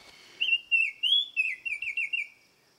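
A Baltimore Oriole sings a short run of clear, fluting whistled notes with a steady rhythm, heard alone at moderate distance against a quiet background.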